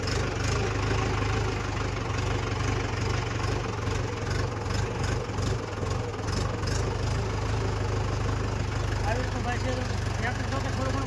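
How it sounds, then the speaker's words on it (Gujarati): A tractor engine runs steadily nearby in a lemon orchard, a low rumbling idle with a rhythmic knock that continues unbroken. "આપણે જો કે ટ્રેક્ટર વહેતું કરી વાળ્યું છે"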